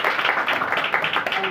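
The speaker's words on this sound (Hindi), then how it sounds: "जोरदार ताली में खुदा की तारीफ हो" A church congregation at a Sunday service claps loudly and rhythmically in praise, with a voice speaking over the applause.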